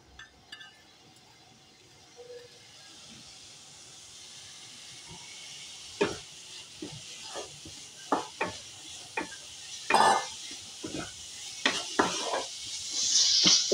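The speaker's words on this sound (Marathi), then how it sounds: "त्याच्याच कढईमध्ये मी आता ही मेथी हे करून घेते" Fenugreek leaves are sautéed in a kadhai still oily from fried masala, giving a soft sizzle under sharp spoon scrapes and clinks against the pan that turn more frequent and louder toward the end.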